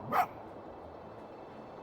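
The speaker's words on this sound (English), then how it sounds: "His little bark." A small red fox in the video game Spirit of the North gives a single short, soft yip-like bark near the start, then only a quiet game ambience remains.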